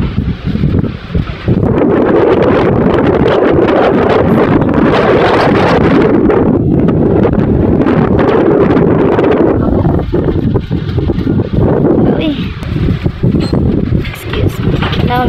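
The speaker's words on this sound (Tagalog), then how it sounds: "Sa kakusog sa hangin, napalid ka." Strong wind buffets the microphone in loud, rumbling gusts beside a parked water truck, with a voice talking faintly underneath.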